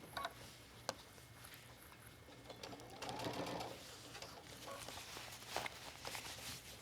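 A sewing machine stitches a zipper onto sports pants, its faint rapid mechanical whir running in short bursts with small clicks and taps between them, quiet and close.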